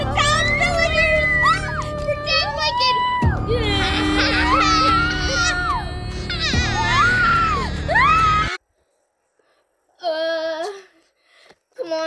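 Several voices scream and wail in high, shrill bursts, loud and close, broken by a brief silence before more cries resume.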